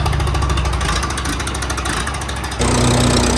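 A small two-cylinder engine running nearby, a loud, rough chugging idle with a pulsing low throb that shifts to a steadier, harder-running tone near the end.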